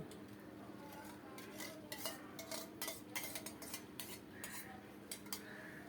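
Chicken pieces are stirred repeatedly in a pot for dum biryani, a spoon scraping and clinking against metal in quick irregular strokes over a soft steady sizzle, fairly quiet and without speech.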